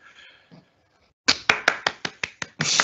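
A person clapping their hands: about seven sharp, close claps in a slightly uneven rhythm, ending in a brief flurry, after a short stretch of faint tonal sound and quiet.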